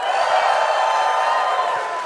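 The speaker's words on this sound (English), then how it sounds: "So when you see or hear something you like, I need you cheering" Live audience at a PAX East 2025 panel for the game Mafia: The Old Country, a dense, steady roar of crowd cheering and whooping filling the hall for about two seconds, loud and continuous without a break.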